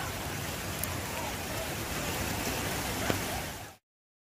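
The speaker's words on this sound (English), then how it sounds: "we have to come out in the rain for this" Steady, dense rain hisses throughout during flooding in Jamaica before cutting off abruptly near the end.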